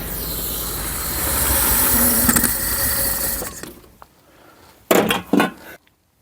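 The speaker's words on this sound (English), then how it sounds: "First, the engine is started because I thought at one point it sneezed." A neglected 1972 Triumph 2000 Mk2 engine, just started after years of storage, runs loud and steady with a hissing, rattling roar, then cuts out and is followed by a few short sharp bursts and silence.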